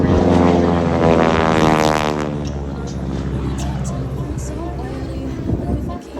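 A propeller airplane flies aerobatic maneuvers at the Wings Over Camarillo air show, its loud engine drone sweeping down in pitch as it passes and fading into distant crowd noise and speech.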